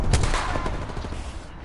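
Video game gunfire, a loud continuous burst of rapid automatic shots rattling close up for under two seconds with no pauses.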